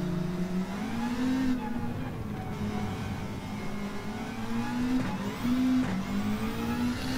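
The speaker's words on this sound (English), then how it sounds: "bounce off that rev limiter." Race car engine in Gran Turismo 7 revving hard and bouncing off the rev limiter, a loud, steady high-pitched drone with repeated wavering pitch rises and cuts, no voices over it.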